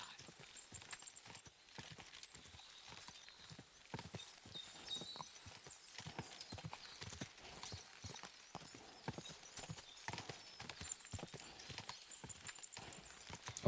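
Horse hooves clip-clop steadily in a medieval Bohemian setting from Kingdom Come: Deliverance II, a brisk, even rhythm close by over light ambient wash, with no talking.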